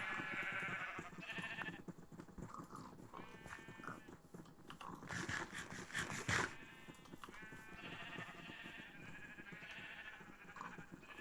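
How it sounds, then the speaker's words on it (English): Sheep bleating in the game Minecraft, several wavering bleats at moderate distance over a continuous low bed of game sound, with no talk. "there aren't many sheep left"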